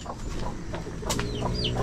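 Chickens cluck close by in a farmyard in the early morning, with short repeated clucks over a busy outdoor background and no talk.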